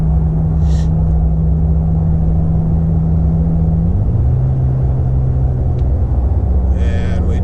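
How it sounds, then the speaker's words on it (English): A Toyota Tacoma cruises in sport mode with a loud, steady engine drone whose pitch drops as the transmission shifts into sixth gear, then settles into a lower, smooth hum. "So now we're cruising in 6th gear in sport mode"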